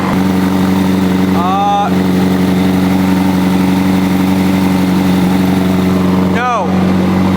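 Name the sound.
car engine idling loudly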